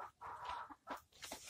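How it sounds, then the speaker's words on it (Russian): Chickens cluck in a few short, close bursts separated by brief pauses, fairly quiet, with no talk. "Опять на локациях будут куры."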